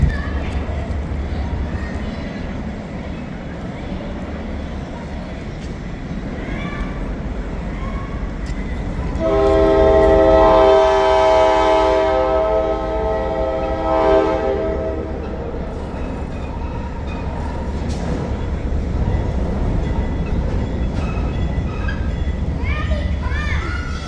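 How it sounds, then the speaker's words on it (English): A diesel locomotive built in the 1980s, formerly Norfolk Southern, rumbles in at a railfest, with a loud, sustained horn-like tone midway, over steady crowd chatter and children's voices. "You can see that train pulling in here."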